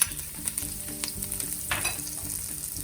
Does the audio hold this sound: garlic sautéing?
yes